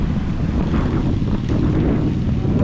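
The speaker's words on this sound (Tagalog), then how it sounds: "Ang lakas na ng hangin" Strong wind buffets an outdoor microphone with a constant loud roar and low rumble for a few seconds, with no other sounds.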